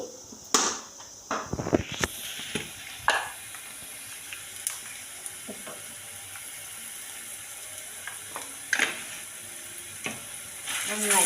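Turmeric and chili powder frying in a pan for a dry prawn chutney, a low steady sizzle broken by sharp scraping, clattering stirs of a spoon, loudest early on and again near the end, no talking.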